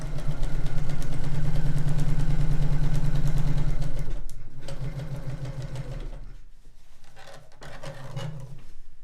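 A sewing machine runs steadily and close by while stitching a quilt seam, a loud continuous rhythmic hum that eases off midway and then resumes in shorter, quieter bursts.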